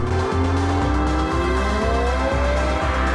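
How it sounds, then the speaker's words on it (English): A car driven in the BeamNG.drive video game, a continuous engine drone with a rising pitch as it accelerates, broken by regular shift dips, loud and steady throughout. "Hit record and drive the car the way you need it to drive."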